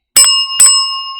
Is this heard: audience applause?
no